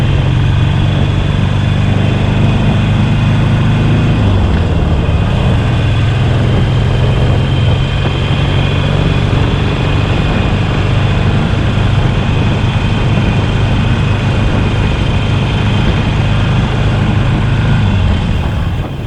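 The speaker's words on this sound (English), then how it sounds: "Let's turn our ears to the sound of the bike in stock form." A Harley-Davidson Roadster XL1200CX motorcycle with stock exhaust idles close and loud, its low steady rumble holding even throughout with a slight drop in pitch partway, no voices present.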